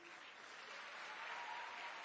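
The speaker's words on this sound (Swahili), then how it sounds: "makofi." Faint, distant applause from a crowd of schoolgirls at a girls' high school event in Murang'a County, a steady wash of clapping lasting about two seconds.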